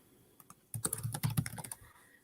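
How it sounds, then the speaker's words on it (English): Quick bursts of typing on a computer keyboard while filling in questions in Google Forms, crisp close key clicks in a busy run after a few isolated taps, in a quiet room. "And then I would continue typing in my questions."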